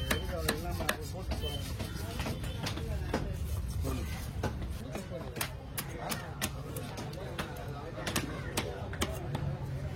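A big barracuda is chopped with a knife at the Kasimedu fish market, with a fast, regular run of sharp thwacks on a board, close and loud, while people talk over the chopping amid market bustle.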